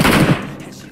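A brief loud burst of rapid gunfire in PUBG, a dense rattle of shots that cuts off within a second and trails into fading echo, close to the player.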